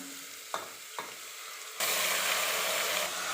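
Mutton pieces sizzling in a pan with fried masala paste and fat for Kolhapuri mutton, a loud steady hiss with a few stirring clacks before the sizzle surges.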